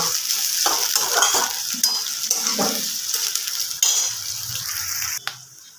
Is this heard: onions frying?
yes